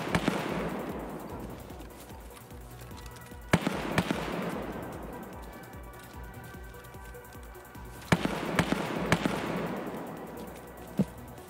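Gunfire in Escape from Tarkov, with sharp shots and short bursts around 3.5, 4, 8 and 9 seconds, each followed by a long rolling echo tail. The shots sound fairly distant and carry no talk.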